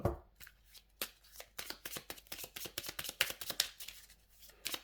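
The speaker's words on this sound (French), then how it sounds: "on va les mélanger avec les autres cartes navigateurs qui ne sont pas des cartes de départ" Navigator cards for a space-themed board game being shuffled by hand, a rapid run of crisp riffling snaps and flicks, close and loud, with no talking over them.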